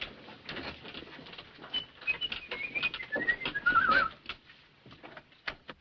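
Pigeons coo and flutter nearby, soft throaty calls and wing patter rising and falling over a few seconds.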